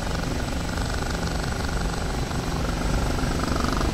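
A Bell OH-58D Kiowa Warrior helicopter in the DCS flight simulator drones steadily with constant rotor and turbine noise, loud and unbroken with no talking.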